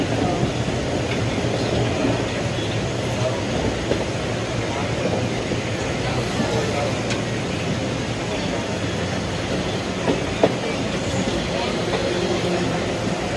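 A passenger train pulling into Panruti station on a Tambaram to Trichy main line run, a steady loud rumble of wheels and carriage noise throughout with faint clicks, heard from on board.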